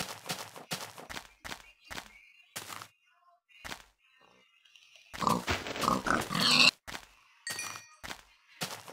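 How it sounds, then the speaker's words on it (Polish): Pigs in the video game Minecraft make short, repeated grunts and thumps in a quick irregular series, with a louder burst of game sounds partway through. "Jeszcze sobie świnie."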